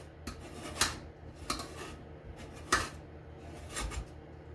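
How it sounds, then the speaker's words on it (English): Butter scraped off the top of a frozen sheet, heard as a series of short, sharp scraping strokes at an uneven rhythm with quiet gaps between them, close and fairly faint. "We're just going to scrape the butter off the top."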